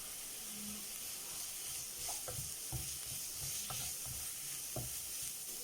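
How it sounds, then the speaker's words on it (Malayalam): Grated carrot being stirred into a pan of frying vegetables: a continuous soft sizzle with intermittent scraping thumps of a spatula, at a moderate, fairly quiet level. "അതൊന്ന് ഇളക്കി കൊടുത്ത ശേഷം നമുക്കതിലേക്ക് ഗ്രേറ്റ് ചെയ്ത് വെച്ചിരിക്കുന്ന ക്യാരറ്റ് അത് ചേർത്ത് കൊടുക്കാം."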